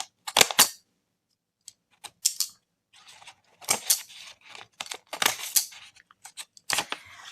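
Scissors snip through a paper book page in a series of sharp, crisp cuts, close and clear, with short bursts separated by pauses.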